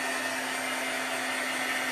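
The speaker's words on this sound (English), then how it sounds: "This is just a heating dryer" A handheld heat drying tool blows over a chalk craft project, a steady close whirring fan roar with a constant hum that holds unchanged throughout, with no talking.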